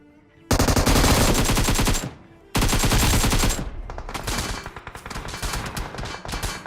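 In the mobile battle royale game BGMI, automatic weapons fire in two long, loud, dense bursts split by a brief gap, then trail into scattered quicker shots and fainter rattling, with no talking.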